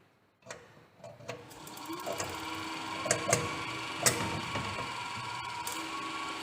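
DC shunt motor started with a 3-point starter, a click followed by a rising mechanical whir that settles into a steady hum, with scattered sharp ticks and clacks from the starter and nearby equipment.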